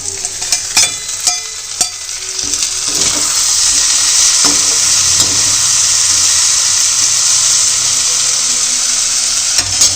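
Tomatoes fry in a pan over a low flame, giving a steady close sizzle and hiss with scattered spatters and stirring clicks early on, then a continuous even frying sound with no talk.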